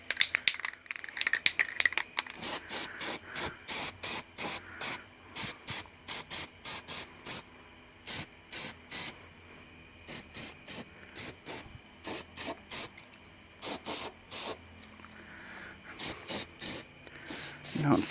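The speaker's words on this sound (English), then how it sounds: "I'm going to blast it with some rust reformer because it's going to bake it in there." Rust reformer aerosol is sprayed onto a hot radiator support of a 1979 GMC C15 in rapid short hissing bursts, a rhythmic string of quick spurts close by with brief gaps.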